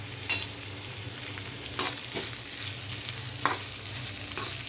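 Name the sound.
onion roasting and stirring in a pan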